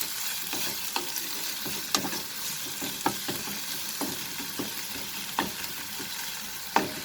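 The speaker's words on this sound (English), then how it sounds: "frying it for 1 minute, you can see the onions have been cooked a little bit. I will add the ginger garlic paste." Onions and ginger garlic paste fry in a pan over reduced flame, giving a steady close sizzle with regular stirring scrapes and soft clicks throughout.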